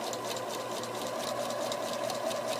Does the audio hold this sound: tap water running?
no